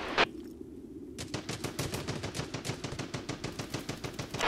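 Rapid automatic gunfire rattles in Hired Ops, a dense run of sharp, evenly spaced shots firing steadily after a brief opening crack, close and loud.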